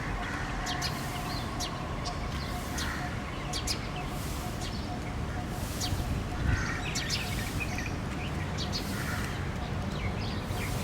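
Birds calling outdoors, including bulbuls, starlings and sparrows, with scattered short chirps and tweets over a constant loud background hum.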